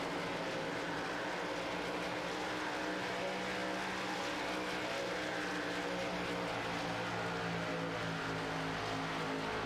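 ARCA stock cars racing at Chicagoland in a sim racing game: a dense, continuous engine drone with no breaks, steady and moderately quiet, like a pack of cars circling.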